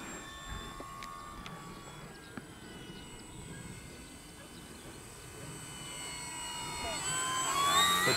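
A Durafly Gloster Gladiator Mk1 RC biplane fighter, 1100 mm EPO airframe on 4S electric power, makes a final pass, its faint whine rising and growing louder toward the end.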